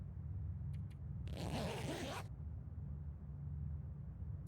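A single quick backpack zipper pull in a video game, one short rasping zip lasting about a second, preceded by a couple of faint clicks, over a low steady background hum.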